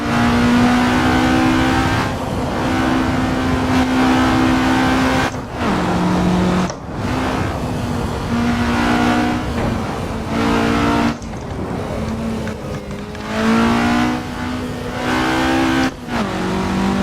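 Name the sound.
race car engine in Assetto Corsa racing game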